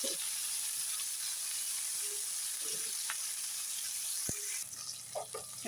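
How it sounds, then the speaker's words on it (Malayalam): Vegetables sautéing in a pan with a pinch of salt, a soft steady sizzle with a few faint stirring clinks and scrapes, quiet and close, no voices. "ഇതിലും ഒരു പൊടിയോളം ഉപ്പിടുക ഒന്ന് വാട്ടിയെടുക്കാം"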